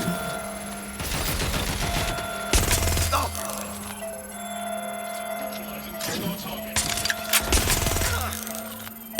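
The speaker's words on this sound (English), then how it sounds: "I'm getting shot at here." Gunfire in the video game Watch Dogs: Legion comes in several loud bursts of rapid shots spread through the clip, over a steady tonal game background hum.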